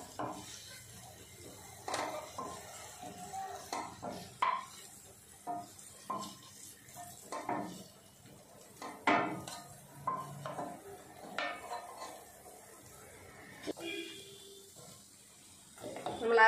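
Food scooped from a frying pan into a cooking pot while making paneer with green peas: scattered clinks and scrapes of a spoon against metal cookware, close and moderately loud, with kitchen clatter between.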